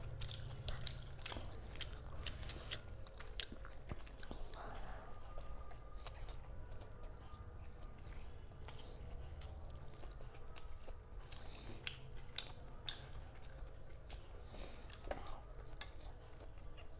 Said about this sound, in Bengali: ড্রাই চাউমিন তাড়াতাড়ি খাওয়াটা প্রচণ্ড ডিফিকাল্ট